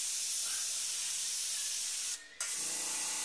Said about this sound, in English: Now, if you notice, I am using an airbrush with a lid on it.